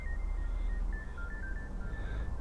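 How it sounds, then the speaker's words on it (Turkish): A mobile phone rings with a thin, repeating electronic melody at moderate distance, heard over a steady low rumble of background noise. "telefonum çalıyor"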